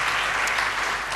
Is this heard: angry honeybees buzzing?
no